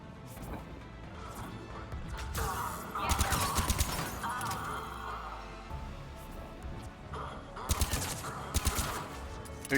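Turret gunfire in the video game Mass Effect 3, loud rapid bursts and crashing impacts in two main volleys amid game noise, with a person talking over parts of it.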